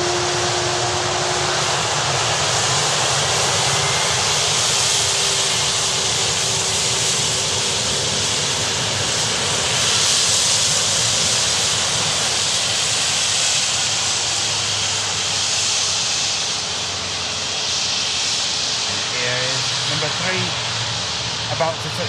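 A passenger airliner taxiing past at an airport produces a steady, loud engine roar and broad hiss that holds throughout with little change, while people talk faintly beneath it.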